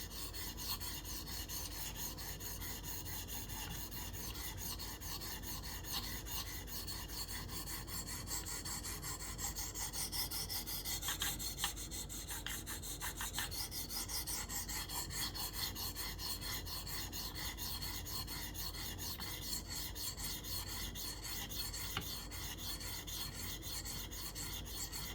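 A D2 steel knife edge drawn over a 600 grit stone on a KME sharpener, producing a steady, close, fast rhythmic rasping that continues without pause throughout.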